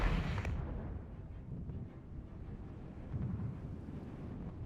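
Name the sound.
artillery fire incoming in a video game (Regiments)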